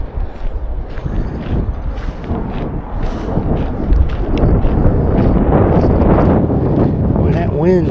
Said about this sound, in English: Boy, that wind is something else.